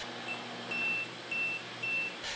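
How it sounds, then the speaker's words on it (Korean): The leak alarm of a Seafrogs underwater housing for a Panasonic Lumix GH5s camera beeps four times in a steady rhythm, high-pitched and clear over a constant low hum, with no voices. "물이나 무언가가 묻지 않아야 될 것이 묻었을 때 저렇게 불빛과 삐 소리가 납니다."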